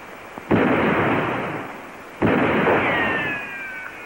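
Two heavy gunshots boom out one after another in a western film shootout, each a loud blast with a long rolling tail, the second followed by a faint ricochet-like whine.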